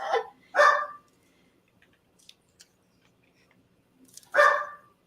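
Dogs bark a few times from nearby: two quick barks, a long pause with faint clicks, then one more loud bark.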